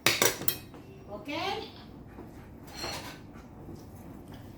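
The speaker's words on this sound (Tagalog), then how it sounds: "Putol-putulin natin yung kanyang karne." Metal cutlery scraping and clinking on a plate while meat is cut into small pieces for lunch, a few sharp clinks at the start followed by softer scrapes, and a brief spoken word.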